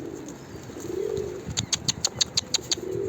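A pet pigeon, or dove, gives a low cooing call, followed by a quick run of about ten sharp clicking chirps close by. The sound is clear in a quiet room with no talking.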